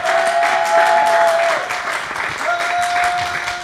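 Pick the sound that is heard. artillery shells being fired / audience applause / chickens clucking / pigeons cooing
audience applause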